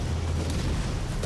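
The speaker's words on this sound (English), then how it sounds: "Cool, the old siphon grenade." A siphon grenade goes off in a video game arena as a deep, rumbling blast that holds heavy low-end roar throughout, with faint crackling bursts near the end.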